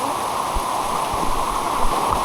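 Floodwater rushes steadily past a house in the Philippines, a continuous close, broadband flow with no breaks and no voices.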